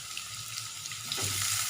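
A cut tomato and dried red chillies sauté in a pan for mint chutney, a short burst of steady crackling sizzle that swells slightly toward the end.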